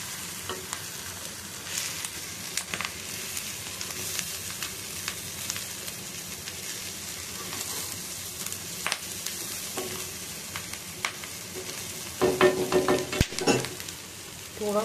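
Small shami kebabs fry in a pan with a quiet, steady sizzle, broken by intermittent clicks and scrapes of turning, which grow a little busier near the end.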